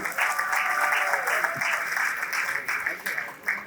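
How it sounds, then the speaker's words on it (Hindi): Audience applause at a music video launch event, a steady spread of clapping hands that holds fairly loud throughout while a voice speaks over it. "एक बार जोरदार तालियां रमेश सुहेल के लिए"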